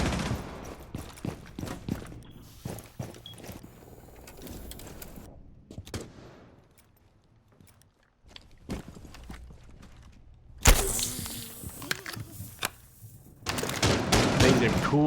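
Rapid gunfire in a Rainbow Six Siege esports match, with bursts of shots and sharp cracks coming and going against quieter gaps, under a commentator's voice.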